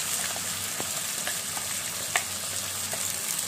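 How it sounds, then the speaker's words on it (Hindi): A paste of ginger, garlic, onion, tomato and cashew fries over full flame with a continuous dense sizzle and light, intermittent stirring taps, close and steady throughout. "इसे डाल करके हम भून लेंगे"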